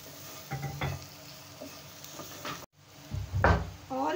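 Vegetable filling for veg pinwheels being stirred with ground black pepper and spices in a pan: intermittent scraping and stirring strokes with a light sizzle, close and moderately quiet, alone without talk.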